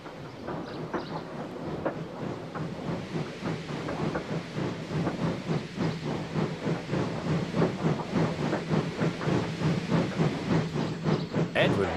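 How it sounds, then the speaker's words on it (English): A steam engine chuffs in a steady rhythm that grows louder and slightly quicker, with a hissing, rumbling undertone throughout. "they uncoupled Gordon, who had enough puff to slink onto the siding out of the way."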